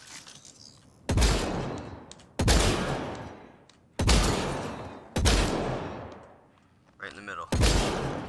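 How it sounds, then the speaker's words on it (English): Shotgun blasts in a video game come at regular intervals, five loud booming shots each trailing off in a long rumbling decay, with faint voices in the gaps. "Let's use a shotgun this time to do it."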